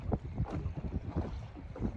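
Cold winter wind buffets a small boat held by two anchors, producing low, uneven rumbling gusts close to the microphone.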